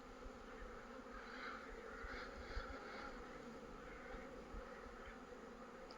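A steady, faint buzz of honeybees comes from weakened hive colonies during winter at the apiary. The hum holds even for several seconds with no talking.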